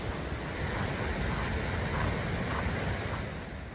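Water rushes at a mountain creek crossing on a high-Sierra hiking trail. The broadband wash is steady and loud and close by, with some wind noise mixed in.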